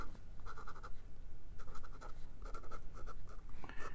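Scratchy strokes of a Waterman Carene fountain pen reverse writing on paper, dry and running low on ink, making close, rasping scrapes in short repeated bursts.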